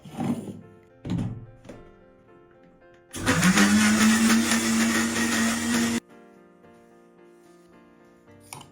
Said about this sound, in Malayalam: ഇനി നമുക്കിത് ബ്ലെൻഡ് ചെയ്തിട്ടെടുക്കാം.